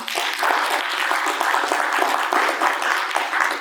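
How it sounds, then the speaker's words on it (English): Conference audience breaks into sustained applause, a dense, even wash of many hands clapping close and loud, holding steady throughout with no voices over it. "I think they need a round of applause."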